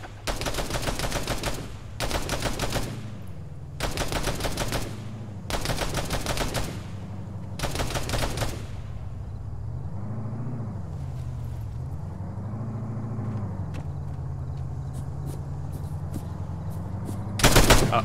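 Bursts of automatic gunfire in the military shooter ArmA 3, five loud sustained volleys roughly a second or two apart over a steady engine-like drone, followed by a lull and one more burst at the end.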